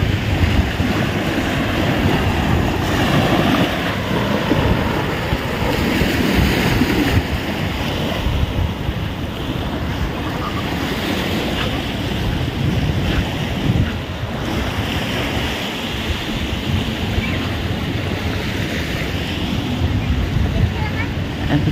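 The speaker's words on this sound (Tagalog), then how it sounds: "ito yung dagat dito" Sea waves wash steadily at Coco Beach in Roxas, Palawan, a continuous loud surf roar mixed with wind buffeting the microphone, with a voice faintly audible beneath the noise.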